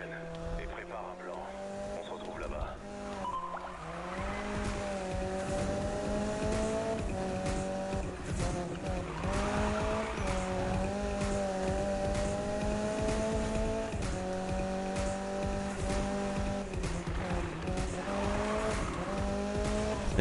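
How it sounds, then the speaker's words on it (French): A race car engine in a PS4 racing video game roars steadily and loudly throughout, its pitch rising and falling with gear changes and bursts of tire squeal as the car drifts, while someone talks over it. "vous avez vu le son qu'elle fait cette voiture?"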